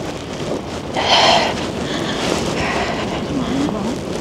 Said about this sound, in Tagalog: Lakas ng hangin, sobra.